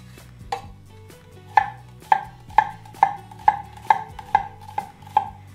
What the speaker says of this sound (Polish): Następnie pokroję jedną czerwoną cebulę.